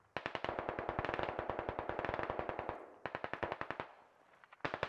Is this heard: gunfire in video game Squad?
yes